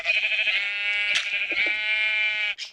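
A sheep in the Minecraft video game bleats in one long wavering cry that runs nearly three seconds, loud and close, with a short higher bleat right at the end and no talking.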